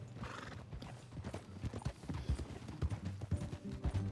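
Steady clip-clop of horse hooves at a walking rhythm in the video game Red Dead Redemption 2, fairly faint, with a soft whinny and some low background rumble.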